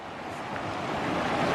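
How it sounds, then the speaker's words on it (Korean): Bear Creek, along the John Muir Trail five miles before Selden Pass, runs high with water. It makes a continuous, loud broadband rush that swells slightly, with no talking. "여기 베어크릭 여기 크릭이 이렇게 내려가고 있습니다"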